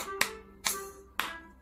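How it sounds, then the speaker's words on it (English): Three sharp hand claps, evenly spaced and close, during a children's goodbye action song in an English kindergarten lesson, with a soft sung tone lingering between the claps. "I can clap my hands"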